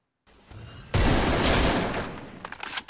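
Burst of gunfire in the Free Fire battle-royale game, a sudden loud, crackling volley after a moment of silence, fading slightly with a few sharp trailing shots at the end.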